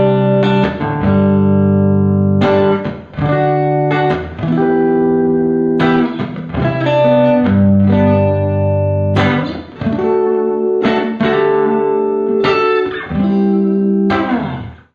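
An electric guitar plugged direct into Logic Pro amp and pedalboard effects plays sustained chords and ringing notes, loud and up close, each strum decaying before the next, no voices.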